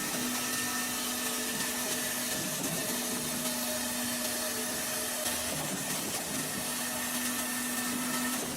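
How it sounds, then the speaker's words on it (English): A Pezzolato VSP60 firewood processor's high-performance circular saw cuts large logs, a steady loud whining drone with a sustained tonal hum that holds throughout, with a brief dip midway. "The machine cuts logs up to 600 millimeters in diameter using a high-performance circular saw."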